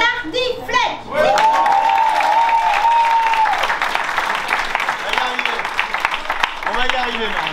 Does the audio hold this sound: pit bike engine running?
no